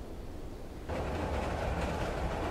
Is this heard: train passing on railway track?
yes